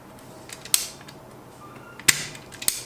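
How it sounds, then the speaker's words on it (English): Small floppy drive mechanism from an MSX FD-A1ST with noisy springs creaking and clicking, a few sharp metallic snaps over a faint mechanical whir, close by and otherwise quiet. "Since the springs on this drive are quite noisy"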